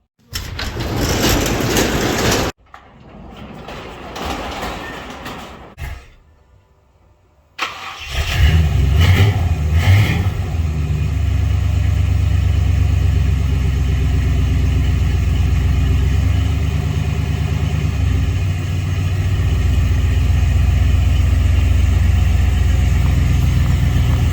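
A 1953 Dodge M37 truck engine cranks and fires after a short pause, then settles into a loud, steady, deep-toned run that continues close by for the rest of the stretch, with no talking.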